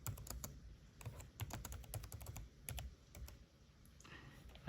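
Rapid clicking keystrokes on a computer keyboard in irregular bursts, quiet and close, with no voices over them.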